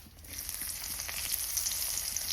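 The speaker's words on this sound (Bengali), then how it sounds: "একটা পেঁয়াজ কুচিয়ে রেখেছিলাম ওটারে দিয়ে দিই তেলে" Chopped onion goes into hot oil flavoured with whole cumin, left over from frying eggs, and a soft hiss rises into a steady, gentle sizzle heard close by.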